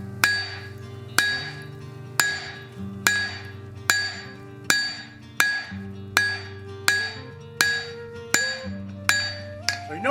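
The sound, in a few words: hammer forging hot axe steel on anvil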